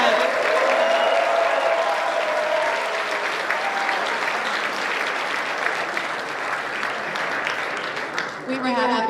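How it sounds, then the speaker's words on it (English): Audience applause fills a basketball awards ceremony, a dense, steady wash of clapping that holds strong for about nine seconds before thinning near the end, with some voices mixed in. "We need a bigger applause for that."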